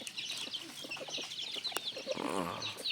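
Chickens cluck in short, irregular bursts close by, with scattered rural background noise and a louder run of clucking toward the end.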